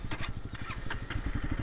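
A Honda CRF300L Rally dual-sport motorcycle on a West Virginia trail pulls away in second gear, its single-cylinder engine chugging in a quick, uneven pulse, fairly quiet and close.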